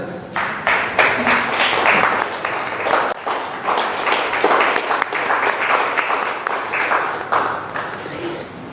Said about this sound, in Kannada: ಪಣೀಶ್ವರವರಿಗೆ ಮಾಲಾ ಅರ್ಪಣೆ ಆಗುವಾಗ ಒಂದು ಚಪ್ಪಾಳೆ ಕೊಡಿ ಸರ್